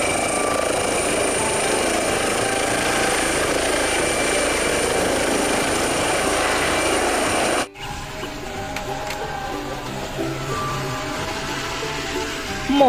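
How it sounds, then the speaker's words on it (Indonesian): A helicopter's steady rotor and engine drone holds loud and continuous for about eight seconds, then cuts abruptly to a quieter, thinner mechanical background. "Ada helikopter."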